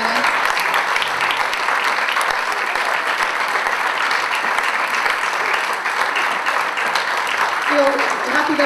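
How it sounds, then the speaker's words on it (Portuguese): Big round of applause from a crowd at an adaptive athletics and sports awards gala, steady dense clapping that fills the whole stretch without pause. "então uma grande salva de palmas para este jovem concessionário."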